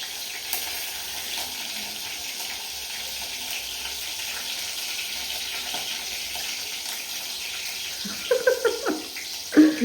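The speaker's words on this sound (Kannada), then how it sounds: "ಶುಂಠಿ ಬೆಳ್ಳುಳ್ಳಿನ ಹಾಕಾಯ್ತು. ಚಟಾಪಟ ಅಂತೈತೆ." Ginger and garlic crackle in hot oil, tempering for restaurant-style veg Hakka noodles: a steady, dense sizzle runs close throughout, with a few louder pops and bursts near the end.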